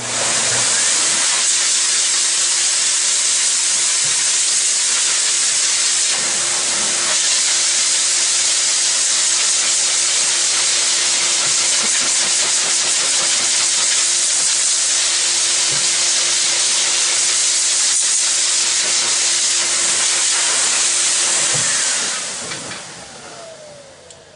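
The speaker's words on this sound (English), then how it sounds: "So when you use your blower, get down next to the hide." An air blower roars in a continuous, loud, steady hiss for about twenty seconds as it blows dirt, manure and bedding off an animal's hide, then cuts off near the end.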